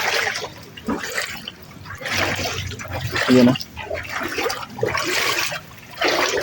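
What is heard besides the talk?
floodwater flowing into a house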